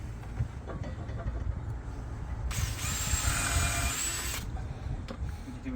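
A power drill bores a pilot hole into a timber window frame with one steady high whine lasting about two seconds. It sits over workshop background noise.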